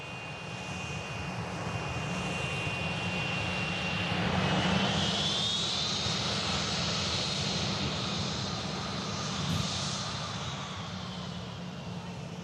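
An IndiGo Boeing 787 Dreamliner, operated by Norse and arriving from Delhi, lands at Manchester Airport with a steady, distant jet-engine roar that swells gently midway and holds throughout.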